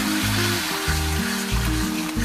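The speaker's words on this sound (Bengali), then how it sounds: "একটু সামান্য জলটা দিয়ে কষতে থাকবো যতক্ষণ না মশলার কাঁচা গন্ধটা যায়" Spice paste with a little sugar frying in a pan as banana flower water is added, giving a steady, close sizzle and crackle over a low hiss throughout, with no talking.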